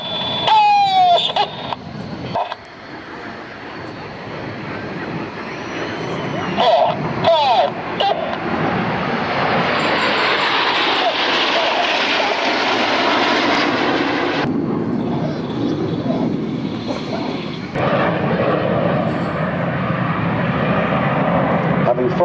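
Red Arrows jets perform a synchro display at the Biggin Hill Battle of Britain air show, their engines roaring in a long, loud, rising and fading rush from moderate distance, with a commentator talking over the noise.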